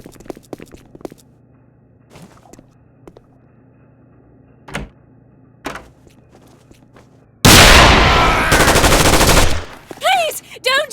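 Gunfire from the SAS: Secure Tomorrow video game: scattered single sharp shots and footstep-like knocks, then a loud dense burst of rapid automatic fire lasting about two seconds, followed by a few more cracks.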